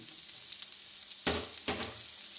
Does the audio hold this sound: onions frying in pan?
yes